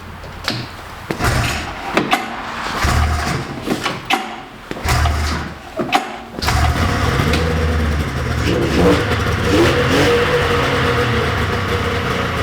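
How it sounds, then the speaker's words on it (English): A 1997 Polaris XLT 600 triple snowmobile engine takes several sharp pull-start attempts, then catches and settles into a loud, steady running roar with slight revving. The engine is heard close and alone, with no talk. "good news is that the XLT started right up after a couple of pulls"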